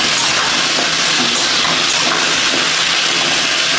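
Potatoes fry with onions in a pan, giving a steady, loud, broadband hiss that runs unbroken from start to finish with no one speaking.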